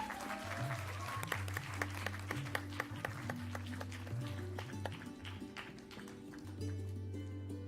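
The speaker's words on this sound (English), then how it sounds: "Please give them a huge round of applause." An audience at a debate competition claps steadily for the winners, a continuous patter of hands heard over sustained low background music.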